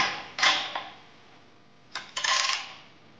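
Two short metallic scrapes and creaks, one early and a longer one later, as a bolt on a Harley-Davidson Street Bob 114 Softail is loosened with a 5/16 Allen key held on one side and a 9/16 socket on the other.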